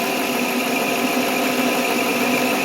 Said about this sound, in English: Engine runs really good.